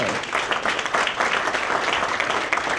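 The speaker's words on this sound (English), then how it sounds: "Give them a round of applause also." A large audience at an event honoring women gives a sustained round of applause. The dense crowd clapping stays loud and even throughout, with no voices over it.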